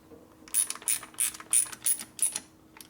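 A ratcheting torque wrench tightens the cover bolts on a 1980 Harley-Davidson Shovelhead 92ci stroker top end, with about six quick, crisp clicking pulls in a steady rhythm, close by and without talk.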